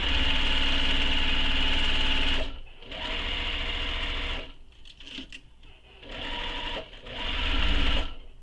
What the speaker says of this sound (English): I'm going to top stitch this entire thing.